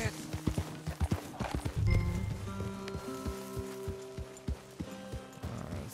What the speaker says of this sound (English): let's see where I can hitch my horse.